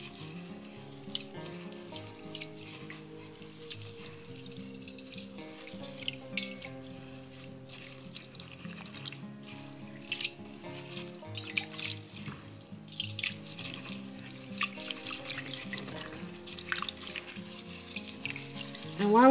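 Running tap water splashes steadily in a sink as sea moss is rinsed to wash out sand, a soft continuous trickle with occasional drips and handling sounds, fairly quiet and without talk.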